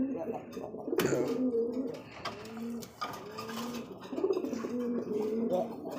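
Repeated throaty cooing of a Bombay pigeon, several rolling calls close by, with a person speaking softly underneath.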